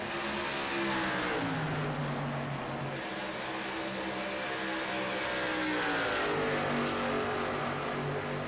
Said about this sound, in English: Oh, the number 2 machine, Stephen Macias, had to chase that car down the track